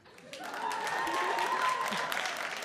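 A comedy club audience breaks into sustained applause that swells and holds steadily, with scattered cheers and voices mixed in the clapping.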